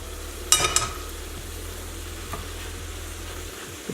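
Pasta being stirred into a shrimp sauce with heirloom tomatoes, garlic and chili in a pan, giving a couple of scraping clatters early on over a steady low sizzle, then a quieter soft stir.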